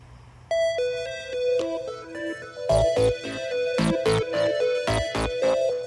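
A bright electronic ringtone melody plays, chiming tones repeating in a steady pattern, loud and close, with no voices.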